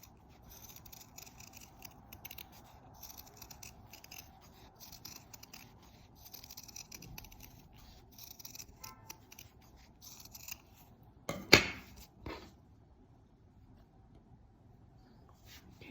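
Scissors snipping through fabric around a 3D embroidered avocado piece, leaving a small margin; soft, close cutting and rubbing sounds run steadily, with a louder brief burst near the end, no talking.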